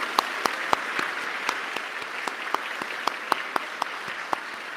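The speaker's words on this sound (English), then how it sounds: "Why don't you give your parents, your spouses, and everybody a round of applause for all the support they've given you." Graduation audience applauding parents and spouses, a thin sparse clapping with distinct individual claps standing out at irregular intervals, fairly distant and steady for several seconds with no talk.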